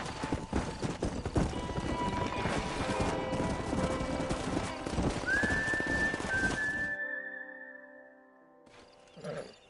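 Horse hooves clatter and a horse neighs in the Western video game Red Dead Redemption, amid outdoor game ambience and a brief whistle-like tone, before everything drops away near the end.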